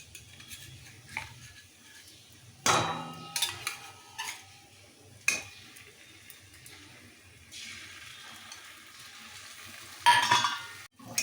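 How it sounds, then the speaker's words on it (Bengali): Prawns fry with a paste of black mustard seed and green chilli while being stirred, giving a soft background sizzle under bursts of scraping and clattering from the utensil against the pan, with no voices. "মশলাটা পুরো মিশিয়ে নিতে হবে। বেশিক্ষণ ভাজবো না"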